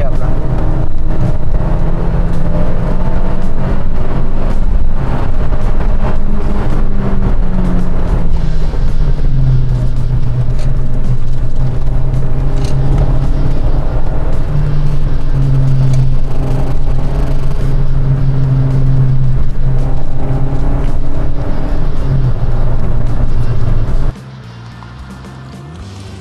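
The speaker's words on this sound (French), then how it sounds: "Et ce moteur, qu'est-ce qu'il est agréable." Rover 200 / Honda Concerto petrol engine running while driving, a loud, noisy drone with steady low tones that shift pitch as revs change, then drops away sharply near the end.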